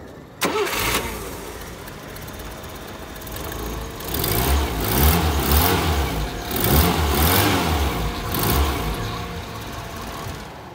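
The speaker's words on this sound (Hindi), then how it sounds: "आप एक और बार फिर से इंजन को स्टार्ट करें, मैं आपको फिर से इसका स्टार्टअप चेक करवाता हूँ" An old antique Nissan car engine cranks and catches, then keeps running with a steady, moderately loud idle and slight revving, heard close with no talk.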